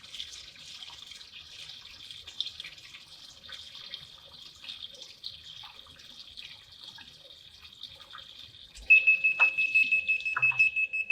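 Water trickles quietly in a sump pit before a backup sump pump alarm starts beeping loudly in rapid, high electronic pulses near the end.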